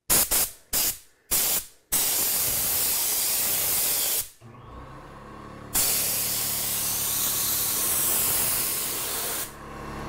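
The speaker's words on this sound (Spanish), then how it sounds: "trabajaré en el otro lado del gabinete para probar el rociado porque esta es un área muy invisible" A paint spray gun coats a kitchen cabinet with thinned paint during a DIY kitchen renovation: a few short hissing test bursts, then a long, loud, steady spray hiss that cuts off briefly and resumes, close by.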